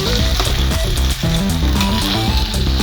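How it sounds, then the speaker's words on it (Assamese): Rice frying in a pan on a gas stove for veg pulao, a steady loud sizzle with scraping stirring strokes running throughout. "প্ৰায় আধা ঘণ্টামান ভাজিব লাগিব চাউলখিনি খুব সুন্দৰকৈ"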